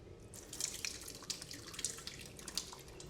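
Water being poured off soaked grains, trickling and splashing close by in quick, uneven dribbles and drips for a few seconds, quiet and with no one speaking.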